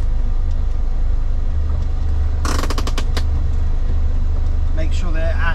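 Renault R8 fitted with a swapped 1397cc engine driving on a test run, a steady loud engine and road drone throughout, with a burst of sharp clatter near the middle and a brief voice near the end.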